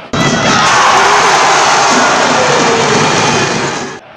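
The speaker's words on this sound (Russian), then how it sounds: "Более 2000 болельщиков обеспечили команде огненную поддержку" More than 2000 fans cheering and shouting at a Dynamo match, a loud, dense roar that bursts in abruptly, holds strong for about four seconds, then cuts off sharply.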